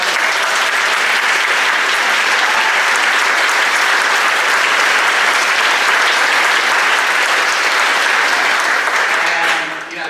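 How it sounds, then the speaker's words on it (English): A crowd at a school claps loudly and steadily for about ten seconds, dense and sustained, before the applause trails off at the end. "so big round of applause"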